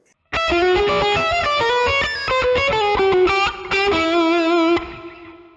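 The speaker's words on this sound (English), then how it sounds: "So all together, the lick sounds like this." An electric guitar with light overdrive plays a slow blues phrase, notes bending and sliding one after another before ringing out at the end.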